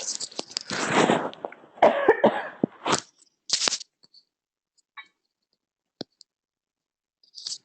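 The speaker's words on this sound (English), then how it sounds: "Excuse me for my cough." Several coughs come close and loud in the first three seconds, a dry hacking burst from a speaker during a talk on distrust and disorder, followed by a few faint clicks and short sounds in near quiet.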